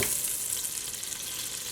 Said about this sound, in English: 2 tablespoons added to that butter, and we're going to wait for that to melt